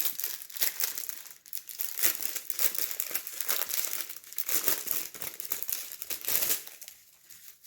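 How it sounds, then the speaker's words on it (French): Crinkling and crumpling of a plastic packet of rhinestones being opened, close and continuous with brief tearing-like bursts, no talking. "ce sont des strass que je vais essayer d'ouvrir si je trouve le bon morceau"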